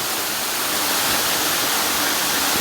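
The waterfall on the Champagne River in Saint Ann, Jamaica, pours as a loud, close, steady broadband rush of water with no voices.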